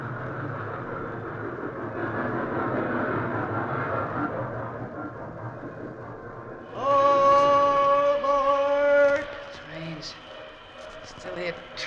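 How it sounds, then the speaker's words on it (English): Radio-drama train effect: a rumbling railway roll under a voice, then a loud steady multi-tone train whistle blast for about two seconds before fading back into talk. "still hear trains"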